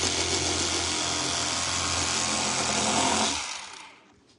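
An electric fillet knife slices along the spine of a walleye toward the tail, a steady, close buzzing motor whine that holds for about three seconds and then quickly winds down and stops.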